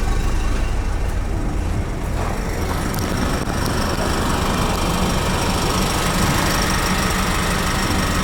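A Cummins diesel engine idles on an amphibious ice-crossing vehicle, a steady, loud, close rumble with a constant mechanical clatter that holds unchanged throughout, with no voices.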